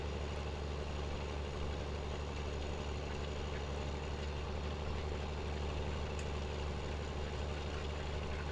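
Tractor engine working under load in the Farming Simulator 2017 video game, a steady low, dense drone that holds constant and loud throughout, with no talking.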